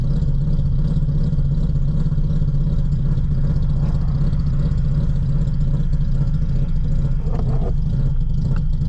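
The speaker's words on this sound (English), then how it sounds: "that rotary motor sounds fucking beautiful" A Mazda FB rotary engine idles steadily in a car, a continuous low droning hum with a faint clattery texture, close and unbroken for the whole stretch with no talk.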